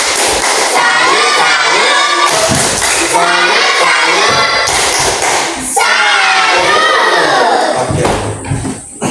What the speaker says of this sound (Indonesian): Mari kita memberikan tepuk salut kepada kelompok 1.